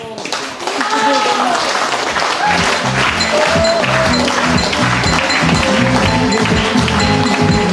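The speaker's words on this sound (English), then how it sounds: "I want you to clap" Guests at a wedding reception clap along in a steady, loud rhythm that runs through the whole stretch, mixed with music and voices.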